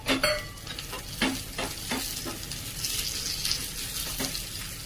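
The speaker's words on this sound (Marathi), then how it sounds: "लसूण परततोय तर त्यामध्ये टाकून घेऊया कढीपत्ता" Crushed garlic and curry leaves sauté in hot oil for a tadka with a dense, crackling sizzle, opened by a few quick metallic clinks of a spoon stirring the pan, close and continuous with no talking.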